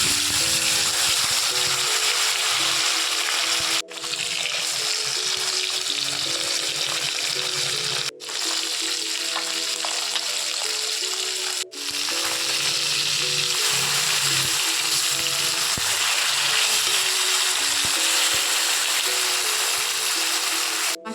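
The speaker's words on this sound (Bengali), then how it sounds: "মাছগুলোতে আমি ভালো করে হলুদ নুন মাখিয়ে নিয়েছি এবার আমি এগুলোকে ভাজব গরম হয়ে গেছে এবার মাছ দিয়ে দিচ্ছি" Turmeric- and salt-rubbed fish frying in hot oil, a steady loud crackling sizzle that runs continuously for about twenty seconds with only brief dips, close up and without talk.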